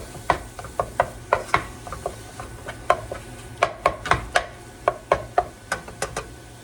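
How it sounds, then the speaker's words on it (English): A knife chops food on a cutting board in quick, irregular bursts of sharp taps, close by, with turkey faintly sizzling in a pan underneath. "Just chop this up."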